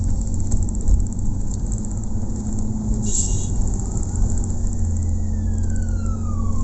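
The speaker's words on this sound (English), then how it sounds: "Now we've got a siren coming." A siren wails faintly in the distance, its pitch sweeping as it passes, over a steady low engine rumble and road noise.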